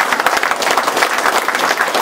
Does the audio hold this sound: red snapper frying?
no